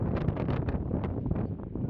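Strong wind blows across a nearly empty beach at José Ignacio, buffeting the microphone in a steady, rough roar with gusty swells and no voices.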